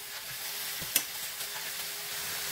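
Steady sizzling of chicken searing in a pot over high heat, with a soft clink partway through.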